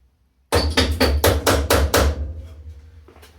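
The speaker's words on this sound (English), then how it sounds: "Tap fuel pump." Seven sharp metallic taps in quick succession on the fuel pump of an Austin A30/A35, loud and close, followed by a short ringing decay and quiet.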